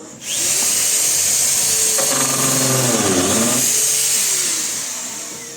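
A power drill drives screws into larch boards for a barn door, a loud steady whine that holds for several seconds, rises in pitch under load, then tapers off.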